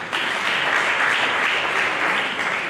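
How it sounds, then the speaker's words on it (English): Brief, steady applause fills a university lecture hall, dense close clapping from the audience without a break. "Please, let's give him a round of applause very much."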